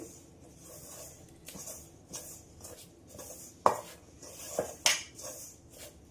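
Biscuit dough made with wheat flour being mixed with a spoon in a bowl: soft scraping and stirring with occasional sharp clinks of spoon against the bowl, close and fairly quiet.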